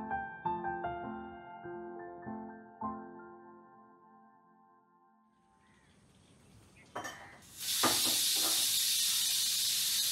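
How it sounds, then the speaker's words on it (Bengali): A pressure cooker whistle in a home kitchen, a loud steam hiss that bursts in after a few ringing, chiming notes and a quiet stretch, then holds as a sustained blast. "প্রেশার কুকারে সিটি পড়েছে।"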